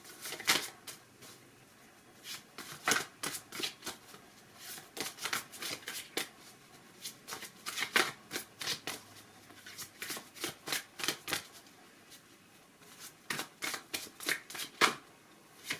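A deck of cards is shuffled and pulled, giving quick riffling bursts and snaps in irregular clusters, close and fairly quiet, with no talking.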